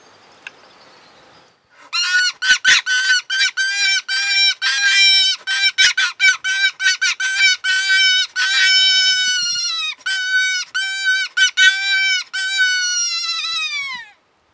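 A FOXPRO hand call blown for predator calling gives a long run of loud, close, nasal squealing blasts in quick uneven bursts, some drawn out, for about twelve seconds with nothing else heard.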